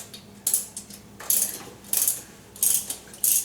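A ratchet wrench backs out the last bolt holding the motor on a 2010 Harley-Davidson Electra Glide being separated from its transmission, giving five bursts of quick metallic clicking, each about half a second long, close by and with no talk.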